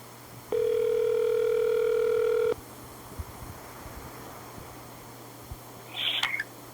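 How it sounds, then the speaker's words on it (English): A steady telephone calling tone sounds for about two seconds while a call is placed, followed by quiet line noise and a brief higher squeal near the end. "Let's try to call John Webster"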